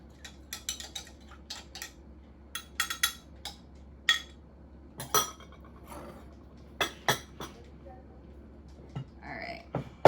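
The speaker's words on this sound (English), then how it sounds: "You want to give it a nice stir." Spoon clinking against a bowl while stirring a salad dressing with lemon juice, several short irregular taps scattered through a quiet kitchen with faint background hum.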